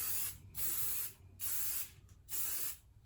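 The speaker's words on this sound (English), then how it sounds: "hold it far away from your head and just lightly spray" Hair spray misted lightly onto crochet hair from an aerosol can held at a distance, heard as three soft, short hissing bursts separated by brief quiet gaps.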